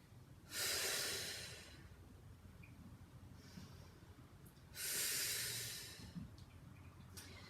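Two loud, breathy exhales during a Pilates workout, each lasting about a second, separated by softer breathing, close to the microphone.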